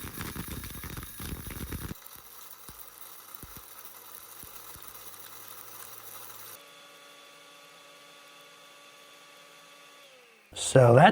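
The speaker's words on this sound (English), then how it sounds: "he took just a plain old blender to grind up his rocks." An old garage-sale blender grinds aquarium gravel rocks, a steady whirring motor with a rattling clatter that drops in pitch partway through, then stops with a brief loud knock at the end; a voice speaks over the opening.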